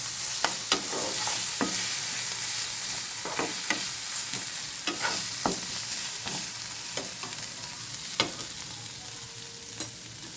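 Spice masala with chili flakes frying in a pan, a steady soft sizzle broken by repeated scraping and clinking strokes of a spoon stirring at an uneven rhythm, close and quiet with no talking.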